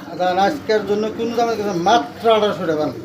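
A Koka pigeon coos repeatedly in close, throaty, rolling phrases, loud and near, with people talking around it at a pigeon market.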